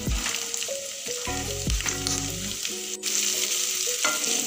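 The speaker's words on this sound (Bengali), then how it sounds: "পেঁয়াজটা ভালো করে ভেজে নেব।" Chopped onion frying in hot oil with ginger and garlic paste: a constant, close sizzle and crackle, steady throughout, with soft tonal background sounds underneath.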